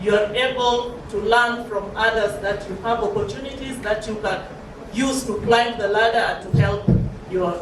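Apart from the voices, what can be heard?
No distinct noise like a dog, phone or traffic.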